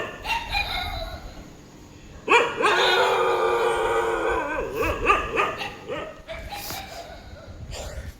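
A dog howls and bays in long drawn-out cries, loud and fairly close, with shorter yelps before and after; no talking.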